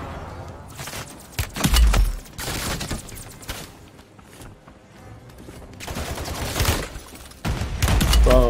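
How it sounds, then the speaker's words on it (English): Rapid automatic gunfire in the Warzone 3 video game on Rebirth Island with an M-16 conversion kit, loud bursts of shots crackling in several clusters over a few seconds with no talking. "I'm getting shot in all."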